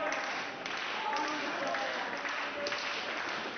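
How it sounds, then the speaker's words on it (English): A wrestling event crowd cheering and clapping, a steady, distant wash of noise that runs continuously beneath a commentator's voice. "Crowd encouraging Logan Stunt."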